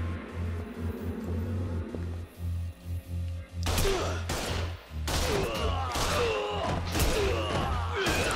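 Gunfire in the Yakuza Kiwami video game, bursts of shots and crashing impacts that start after a quieter stretch with low game music, with short gaps between volleys.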